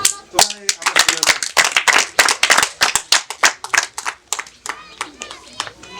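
A crowd claps in welcome of arriving officials at a Rwandan community meeting, a dense, uneven burst of many hands that rises and then thins over several seconds, with voices murmuring underneath.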